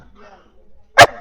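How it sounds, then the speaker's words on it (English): A Westie gives a single sharp bark, loud and close, after a stretch of quiet, faint background voices on a street in Murano, Venice. "Ah, a dog!"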